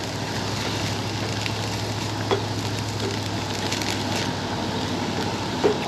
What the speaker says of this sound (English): I can already see that these onions and peppers are sauteing nicely